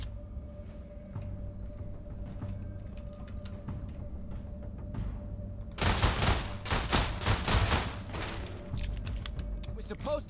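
Rapid automatic gunfire from a sci-fi video game as a rogue robot is shot, a dense burst of fire breaking in midway over a steady background hum and continuing for several seconds.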